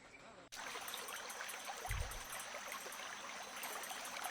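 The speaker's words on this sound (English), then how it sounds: "I hear a babbling brook." A babbling brook in a spooky horror RPG village flows as a continuous trickling wash of water, starting abruptly and running steady and moderately close, with a brief low thump partway through.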